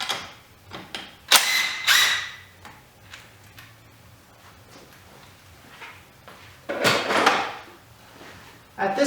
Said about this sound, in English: Now we'll want to loosen this T-bolt clamp.